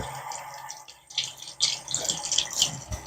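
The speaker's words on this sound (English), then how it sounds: "Dump out the water." Water splashes and pours as a container is dumped out while a makeup sponge is being cleaned, with short close spills and drips in irregular bursts.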